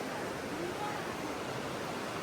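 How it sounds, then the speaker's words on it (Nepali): Heavy rain falls outside, a dense, steady roar of broadband hiss without a break. "कत्रो ठुलो पानी आएको रहेछ नि त"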